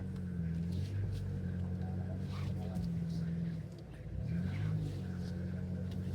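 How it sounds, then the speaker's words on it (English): A car reverses slowly in a car park beside an allotment, its engine a low, steady hum. A person talks over the engine. "I'm trying to reverse while talking to you guys."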